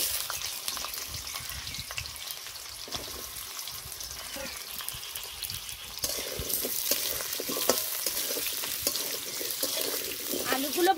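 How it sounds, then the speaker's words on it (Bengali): Potatoes fry in fish oil in a pan for a fish and pumpkin-greens dish, with a steady close sizzle and occasional stirring scrapes that grow louder and busier partway through. "মাছের তেলে আমি আলুগুলো দিয়ে দেব।"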